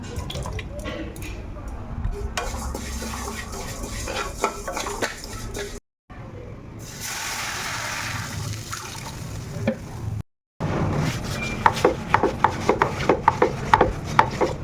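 Kitchen work with quick knife chops and clinking dishes, broken by two brief silent gaps. The chopping grows sharper and more rhythmic toward the end.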